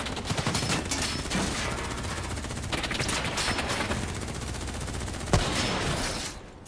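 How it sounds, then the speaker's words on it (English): Sustained automatic gunfire fills a Call of Duty Black Ops 3 cutscene, a dense continuous fusillade of overlapping shots with one sharper crack near the end, then the firing tapers off. "Who's shooting?"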